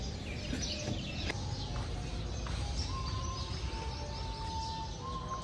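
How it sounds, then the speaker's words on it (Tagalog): Birds calling around a luxury desert villa resort in Ras Al Khaimah, UAE, with short chirps and a few drawn-out whistled tones over a constant background hiss, fairly clear and close. "Maririnig niyo talaga yung mga huni ng ibon."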